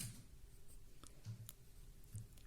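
Pen strokes on paper as the capital word MONITOR is handwritten, a few soft, close scratching marks in quiet short bursts with no talk.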